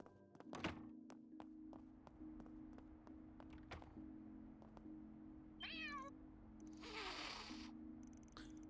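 In the game Trails Through Daybreak, a cat gives two short meows over a steady low hum and faint ambient tones, with soft thunks and taps early on and a brief brushing noise near the end.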